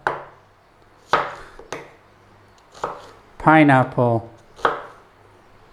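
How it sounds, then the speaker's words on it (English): A knife chops small onions on a cutting board, five or six separate sharp thuds spaced apart, with a short stretch of someone talking in the middle. "we've got a couple of smallish onions here, and we're going to cut them into about the same size"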